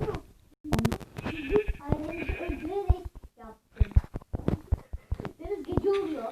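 Several short bleats from a sheep in a Minecraft-like game sound in quick bursts, mixed with clicks and other synthetic effects, fairly close and uneven in rhythm.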